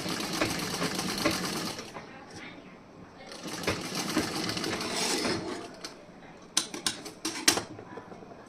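A sewing machine stitches the front part of a wedding blouse in quick bursts, its steady whirring broken by pauses and a few sharp clicks near the end, close and clear.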